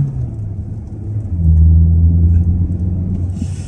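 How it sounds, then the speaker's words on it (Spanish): Volkswagen Tiguan 1.5 TSI R-Line pulling away from a stop in first gear: a steady low engine rumble swells as it moves off, heard from inside the cabin, with no talking. "Vamos a bajar a primera y metemos primera. Salimos, que no viene nadie."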